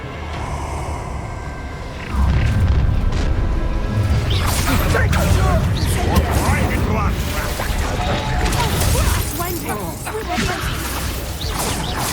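A spell-driven explosion bursts in the Hogwarts Legacy video game, a sudden loud crashing boom with whooshing debris and mechanical clatter that rolls on for several seconds, with talk over the top.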